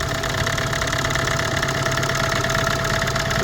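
A Mini One D 1.6 dv6 diesel engine idles steadily and loudly up close, a constant low clattering hum with only limited rattle and a faint steady whine, no talking.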